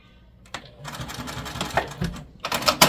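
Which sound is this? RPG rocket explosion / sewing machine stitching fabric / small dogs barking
sewing machine stitching fabric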